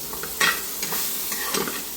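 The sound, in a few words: prawn legs frying in a pan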